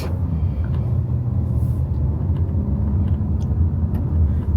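A car drives in traffic on highway 75, a steady low road rumble and engine drone heard from inside, constant and moderately loud, with no speech.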